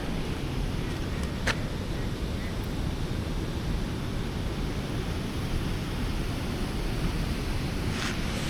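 A small waterfall on a hillside forest walk, heard as a steady, even rush of falling water that fills the whole clip at a constant moderate level, with no voices.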